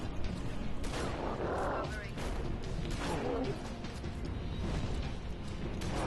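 Gunfire in the sci-fi shooter Halo: Reach, played on Legendary difficulty in the Sword Base mission: a series of sharp shots and crashing impacts mixed with heavy in-game combat noise, with someone talking over it.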